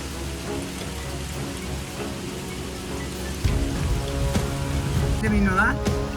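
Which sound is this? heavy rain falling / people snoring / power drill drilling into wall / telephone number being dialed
heavy rain falling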